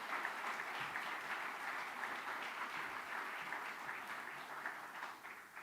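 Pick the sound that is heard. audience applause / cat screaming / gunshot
audience applause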